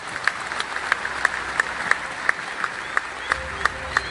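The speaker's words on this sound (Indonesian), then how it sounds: "kita patut memberikan aplaus sekali lagi buat mereka semua" Audience applause during an Islamic sermon event, a steady wash of clapping at moderate level with a few sharper claps standing out.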